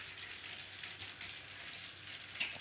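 Beef meatballs fry in warm oil in an Italian kitchen, giving a steady, soft crackling sizzle throughout with a brief sharper clink near the end and no talking.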